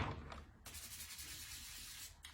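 A hot massage stone being scrubbed with soapy lather, a steady close rubbing and brushing sound that runs continuously with a brief pause near the start.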